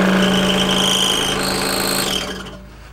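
A scroll saw runs with a loud, steady buzzing drone as it cuts a tight outside corner, then the motor sound drops and fades over the last half second.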